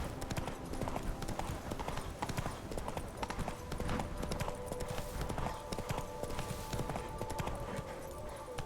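Horse hooves gallop in The Witcher 3 video game, a rapid, steady clip-clop rhythm heard close throughout, with faint game ambience behind.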